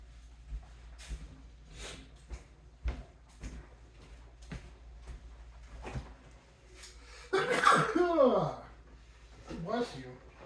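A single sharp, loud sneeze bursts out close by, with quiet speech before and after it.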